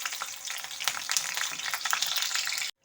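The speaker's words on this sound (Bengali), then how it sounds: "এখন আমি ওই তেলের মধ্যেই আলু ফুলকপিটা একটু লাল লাল করে ভেজে নেব।" Potato and cauliflower pieces frying in leftover oil from frying onions: a dense, steady, close sizzle that cuts off abruptly at the end.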